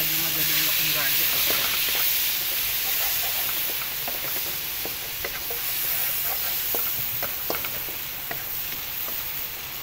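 Onions sizzling and frying in a pan for butter garlic seafood, a steady close crackle with scattered pops and occasional stirring scrapes throughout.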